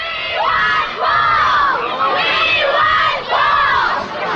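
A large crowd of fans screams and shrieks around a singer in the late 1950s, loud rising and falling waves of high-pitched yelling that continue throughout.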